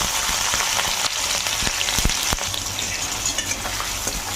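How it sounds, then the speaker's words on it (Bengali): Chopped onions drop into hot white oil in a pan and sizzle in a continuous close hiss, with scattered sharp crackles and pops. "তেল তো গরম হয়ে গেছে, তো সবার প্রথমে আগে পেঁয়াজ কুচিগুলো দিয়ে দিচ্ছি।"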